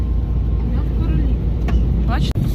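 Steady low engine rumble and road noise from a car driving through a village in a formerly occupied area of Ukraine, continuous and close, with a few faint higher squeaks and a brief dropout near the end.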